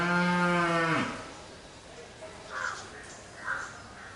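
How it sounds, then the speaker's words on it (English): A cow lets out one loud, drawn-out moo that falls in pitch and fades after about a second, followed by quieter outdoor ambience with a couple of crow-like caws in the distance. "sound of the cow."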